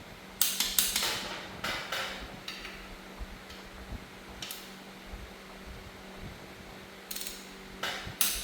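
A ratchet clicks in short bursts while adapter plate bolts are tightened on a Honda F23 engine, sharp close mechanical ticks separated by pauses, with faint shop noise between them.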